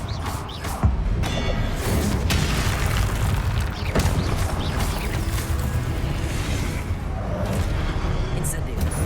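A Confringo explosive spell blast in Hogwarts Legacy, a loud booming burst followed by sustained rumbling crackle and magical effects, with a voice calling out over the noise.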